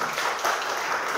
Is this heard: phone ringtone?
no